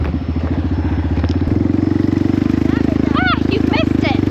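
A four-wheeler ATV engine drones steadily as it drives through a farm field, a loud close pulsing rumble throughout, with brief faint chirps near the end.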